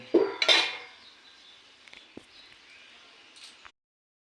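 A lid set onto a cooking pot after coriander leaves are added, giving a couple of metallic clanks up front followed by softer clinks and light taps fading away, close and alone.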